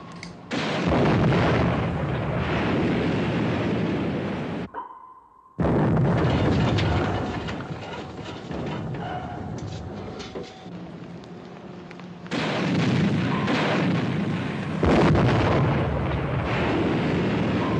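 Artillery guns firing in a war action film, with repeated loud booming blasts and sustained roaring rumble across the scene, one brief break midway before the heavy barrage resumes.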